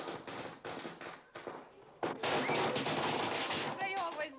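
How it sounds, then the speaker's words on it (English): Strings of firecrackers exploding in rapid, crackling bursts, a dense irregular popping that swells louder midway and continues, with voices faintly mixed in. "They always light firecrackers when I come home."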